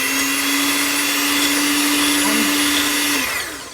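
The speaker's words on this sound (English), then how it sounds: "we have to whisk it until the egg yolks become thick" Egg yolks for tiramisu being whisked until thick over a double boiler, a loud, steady, high motor whine close by that holds level, then fades at the end.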